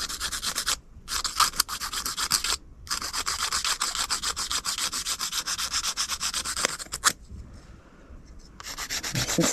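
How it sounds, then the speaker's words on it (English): Operculum shell being sanded for a coastal craft project, with brisk scratchy rubbing strokes up close that come in long bursts separated by short pauses. "You can sand these operculums."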